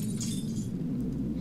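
Brief glassy crash and tinkle from breaking glass in the Happy Wheels game, sharp in the first half second, then fading into a low steady hum.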